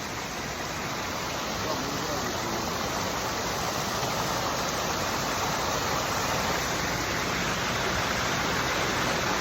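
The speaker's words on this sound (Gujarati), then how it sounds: "આ જો એનો ખળખળ અવાજ આપણને ખૂબ જ મોહિત કરે છે" Rushing, gurgling water of a mountain stream on Girnar hill, a steady broadband wash that holds constant and fairly close for the whole stretch with no voices over it.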